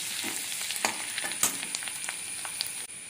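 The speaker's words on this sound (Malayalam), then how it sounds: "ഇതൊന്ന് നന്നായി ഫ്രൈ ആക്കി എടുക്കണം" Ginger and garlic frying in a pan, a steady close sizzle with scattered crackles and pops running the whole time, no voices.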